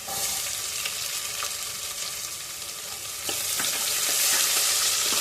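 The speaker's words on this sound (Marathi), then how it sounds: "आता आपण कांदा टाकतोय त्याच्यात" Onion tipped into garlic paste frying for chicken pulao, a loud, continuous hiss that swells brighter partway through as the onion hits the hot oil, with light stirring clicks and no talking.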